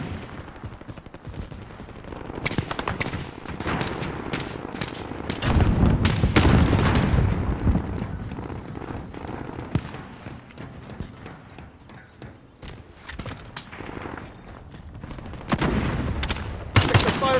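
Sentry gun gunfire in Call of Duty: Modern Warfare, sustained bursts of automatic shots mixed with other battle gunfire and a clattering, hoof-like rhythm, rising and falling in loudness over the whole stretch.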